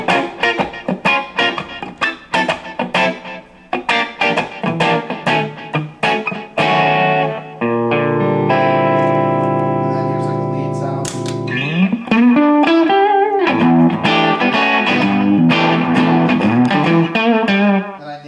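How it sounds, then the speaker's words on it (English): Electric guitar through a Line 6 Spider III 75 amp, mostly clean with a touch of grit and trailing delay echoes, playing picked phrases, a sustained chord, then sliding bends. "clean kind of sound with some delay, a little distortion."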